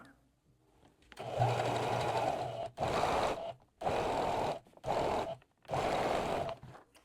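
A sewing machine stitches bias binding onto a garment neckline in several loud, close, steady bursts separated by brief pauses, starting after a quiet moment, with no talking.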